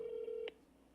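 A telephone being dialed to return a call: a steady dial tone cut off by a single short keypad tone, close and clear, with no talk.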